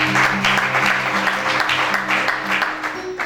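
An audience at a French-language sermon gathering claps steadily and fairly loudly throughout, with sustained tonal music or voices running beneath the applause.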